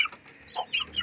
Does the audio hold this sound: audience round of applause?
no